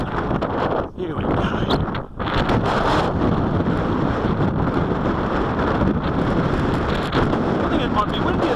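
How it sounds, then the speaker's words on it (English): Strong winter wind blows outdoors in a continuous, loud roar that buffets the microphone, with brief dips in intensity. "I think it might be windier than before now."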